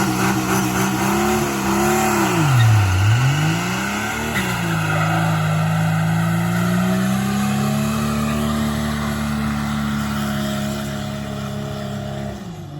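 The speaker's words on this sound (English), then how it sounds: "Looks like it'll still spin the tires." A burnout truck spinning its tires, loud engine revs dipping and rising, then a long sustained high-rev roar with tire squeal, close throughout.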